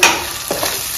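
Turmeric goes into a hot pan of frying ingredients for gongura chicken and is stirred, producing a brief close sizzle with a soft scrape midway.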